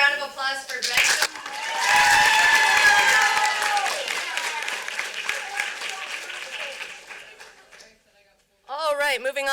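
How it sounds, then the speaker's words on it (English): Audience applause after a cold reading of a young playwright's play at a festival, with cheering and some laughter rising for a few seconds, then fading out as a voice speaks afterward. "All right, another round of applause for Benjamin."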